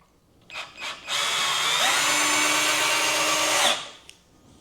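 A cheap Harbor Freight Warrior cordless drill drives a screw with a Phillips bit: two brief trigger blips, then a loud, steady whirring run of nearly three seconds that cuts off abruptly, close and alone.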